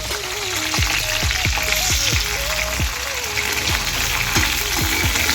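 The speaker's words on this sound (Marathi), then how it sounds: "त्यानंतर टोमॅटो टाकूया" Tomatoes going into a sizzling pan of spinach and potato bhaji, giving a steady loud frying hiss with scattered crackles and pops throughout, no talking.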